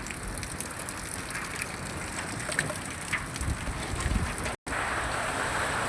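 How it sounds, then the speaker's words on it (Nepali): Wind blows outdoors on a rainy day in Tumdanda, a steady rough rush mixed with light rain patter that drops out for a split second near the end, with no talk. "बतास पनि चलिरह क्या अझै।"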